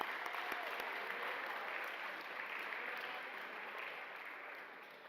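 An audience at the RAMMIES 2022 athletics awards applauds the women's volleyball team, a steady, dense round of clapping that slowly fades, with a few sharp claps standing out near the start.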